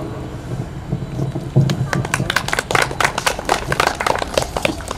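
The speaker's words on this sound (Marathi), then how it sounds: "टाळ्यांसाठी कंजूसी करू नका, भरपूर टाळ्या" An audience bursts into applause partway through to welcome guests at a gathering, with dense, loud, irregular clapping filling the room over a murmur of voices.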